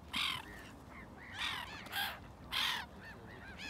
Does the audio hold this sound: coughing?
no